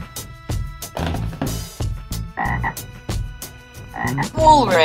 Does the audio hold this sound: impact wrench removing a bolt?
no